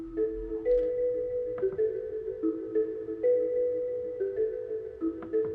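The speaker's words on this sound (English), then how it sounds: "So we have a low bell," Low bell synth tones from a Korg Prophecy preset with resonances, sustained tonal notes changing pitch every half second or so in a steady melodic pattern, moderately loud and alone.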